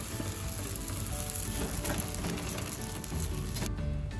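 A Kerala parotta sizzles on a hot pan, giving a steady, dense crackle that carries evenly from start to finish at close range before easing slightly at the very end.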